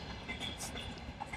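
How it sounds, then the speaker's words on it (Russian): A passenger train begins pulling away from a station, giving low rumbling and rolling rail noise at modest volume, faint and steady through the brief moment. "Сидели тихо, а тут раз и поезд поехал"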